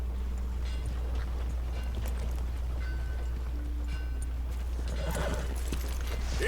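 A horse whinnies in Red Dead Redemption 2, with a sharper burst of hooves and movement toward the end over a steady low hum.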